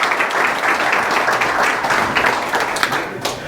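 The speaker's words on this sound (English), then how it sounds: "Always got a little frightened with applause before I talk" An audience at the Dune Acres Clubhouse applauds steadily to welcome a speaker, a dense, continuous patter of clapping at moderate volume throughout.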